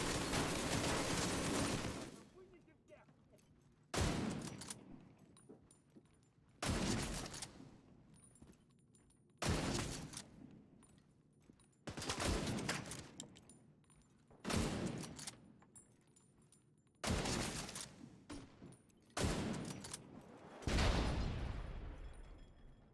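A string of heavy blasts as an ammunition depot is blown up in The Division 2, about eight loud booming bursts spaced every two to three seconds, each trailing into a rumbling decay.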